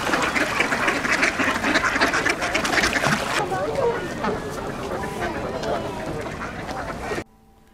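Ducks and other birds being fed at the Scarborough Bluffs beach park in winter, a dense loud chorus of quacking and honking with splashing and people talking, thinning after a few seconds before cutting off.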